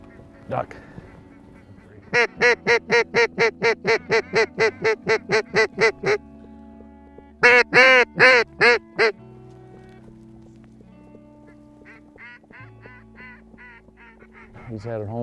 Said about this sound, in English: Ducks out front